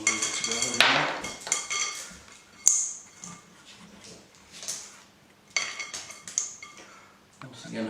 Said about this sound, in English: So I'm just putting a few more bits of gravel in there.